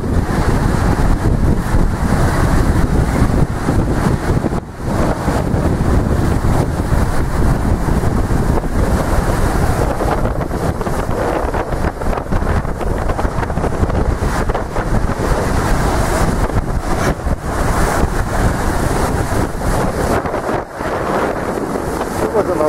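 Storm wind buffets the microphone while heavy surf roars without pause on Lyubimovka beach during a November 2023 storm, loud and close, with a few stronger gusts and crashing waves and a voice briefly audible beneath.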